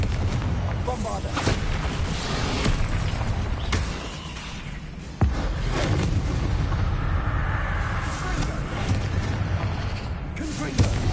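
Bombarda explosion spells go off in Hogwarts Legacy, with heavy booming blasts and rumbling impacts in quick succession, a sharp hit near the middle, over dense, loud continuous combat noise.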